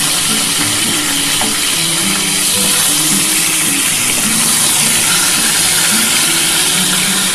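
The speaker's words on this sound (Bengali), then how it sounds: "মাছের একটু সাইজটা বড় হলে আমি 2টো করে ভেজে নিচ্ছি।" Pomfret fish fries in a pan with hot oil, a loud, steady, close sizzle with bubbling crackle and no pauses throughout.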